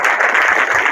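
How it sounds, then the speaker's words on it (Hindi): Audience clapping at a meditation session, a continuous, even wash of many hands at close range, loud and unbroken. "सब भाइयों ने समझा, ताली बजाओ"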